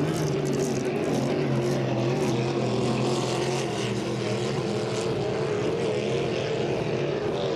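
A hydroplane racing boat in a Hydro350 heat at St-Félicien roars at full throttle near the municipal quay, its engine a dense, continuous loud drone with a steady pitch that barely wavers throughout.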